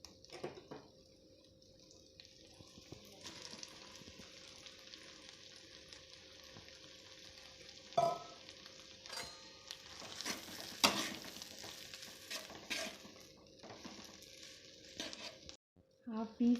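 Eggs dropped into a pan of fried onions and tomatoes for egg fried rice, with a soft, steady sizzle, a few sharp clinks and a brief louder burst partway through, fairly quiet and close.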